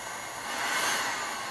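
A handheld heat tool blows steadily to dry paint before stenciling, a continuous airy whir with a motor hum that swells slightly midway and stays close and fairly loud.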